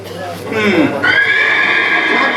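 A horse whinnies loudly as a sound effect in a Tamil audio drama set in a frightening forest; the neigh rises and falls, then holds a long high tone, heard close and over a steady background bed.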